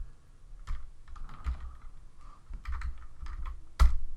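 Bursts of clicky typing on a computer keyboard, irregular keystrokes and short runs with a sharper clack near the end, close and clear with no voices.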